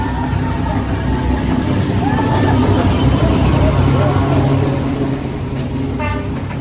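A train arrives at a station in Vietnam, its steady loud rumble filling the scene with brief horn toots near the end, while a person talks over it.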